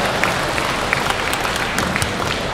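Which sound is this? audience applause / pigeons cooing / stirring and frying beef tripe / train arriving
audience applause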